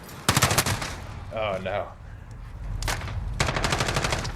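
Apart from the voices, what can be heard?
MG36 machine gun firing in video game Call of Duty Modern Warfare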